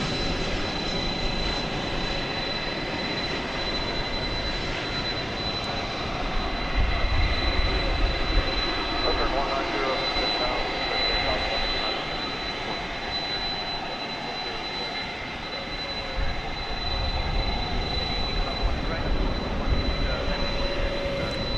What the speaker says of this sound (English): That was American 2926 from Tucson, Arizona, in Airbus A320